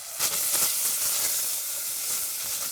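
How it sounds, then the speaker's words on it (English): Bacon renders in a pan with a steady, close hiss and crackle of sizzling fat, alone and unbroken throughout. "That bacon's rendering down nicely."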